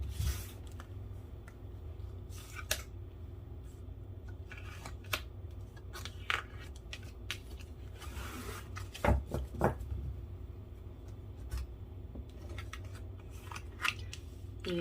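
Tarot cards being shuffled and drawn for a reading, giving a steady series of soft, dry papery snaps and slides close by, with faint room hum and no speech.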